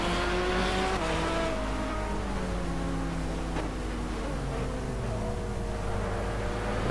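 A BMW LMR race car engine in Project CARS, loud and close, with a continuous high-revving drone whose pitch rises and falls through gear changes and a brief dip midway.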